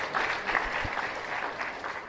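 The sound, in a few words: audience applause at a graduation ceremony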